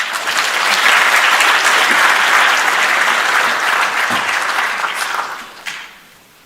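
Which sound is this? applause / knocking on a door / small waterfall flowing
applause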